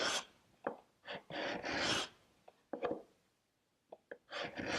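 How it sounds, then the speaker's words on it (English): A hand scraper rasps across wood on a furniture stretcher and lower rail, in several short strokes of uneven length with quiet pauses between them. "So I can scrape here and then sand these little sections right here possibly."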